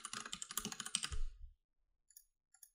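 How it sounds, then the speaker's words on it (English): Rapid clicking of computer keyboard keys while entering a test email into a raffle website sign-up form, a quick burst of close typing lasting about a second and a half, then silence with a couple of faint clicks. "You know, type a test email in."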